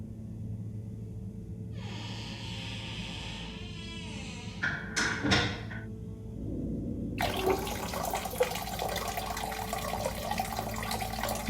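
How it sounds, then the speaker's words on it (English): Shower water running in the video game Harold Halibut: a steady, close hiss of spraying water that starts abruptly and continues evenly to the end, preceded by softer bathroom rumbles and a brief rattle. "Sounds like the shower is playing up."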